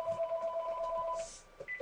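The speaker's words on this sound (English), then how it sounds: "Why is the phone ringing?" A telephone rings in a video game, its steady electronic tone looping continuously for almost two seconds, fairly loud and alone.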